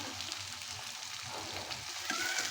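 Beef tripe curry with fried onions and spices, cooked in very little oil, sizzles in a pan with a steady close hiss and soft stirring movements, with no voices.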